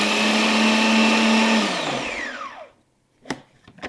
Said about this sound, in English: Just pulse that for a couple of minutes till it looks like breadcrumbs